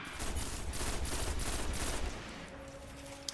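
A pulse rifle in Destiny fires rapidly in quick, regular bursts for about two seconds, loud and close, then stops, leaving faint game ambience.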